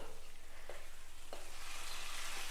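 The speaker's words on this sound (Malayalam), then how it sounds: "ഇത് നമുക്കൊന്ന് തുറന്ന് നോക്കാം. തുറന്നൊന്ന് ഇളക്കി കൊടുക്കാം." A cheera stem curry bubbles and sizzles softly in a pan, with two brief stirring scrapes against a steady low frying hiss, close and fairly quiet, no voices.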